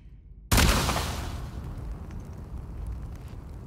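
A single shotgun blast in The Last of Us Part II fires after a brief quiet and lands as a sudden loud boom. A long rumbling decay with scattered crackle follows.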